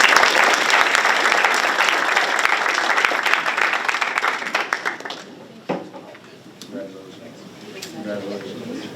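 Audience applause for students at a school board meeting, a full round of clapping from a seated crowd that tapers off midway into scattered claps, followed by a few voices talking quietly.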